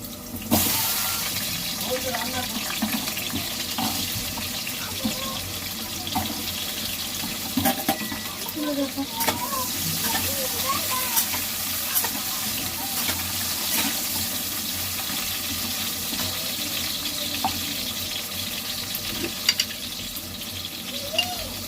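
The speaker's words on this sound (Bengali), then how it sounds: "তো তেল গরম হয়ে গেছে, কুমড়োগুলো ভেজে নেব। কুমড়োগুলো ছেড়ে দেবো তেলের মধ্যে।" Pumpkin pieces frying in hot oil, a steady dense sizzle running throughout with occasional stirring clatter, close and constant.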